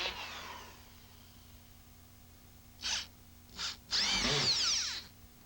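A screw gun drives drywall screws: two short whirring bursts, then a longer, louder run with a rising whine as the screw seats, fairly close with no talking.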